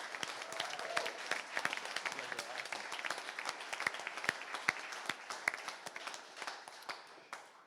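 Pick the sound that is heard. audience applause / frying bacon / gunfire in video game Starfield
audience applause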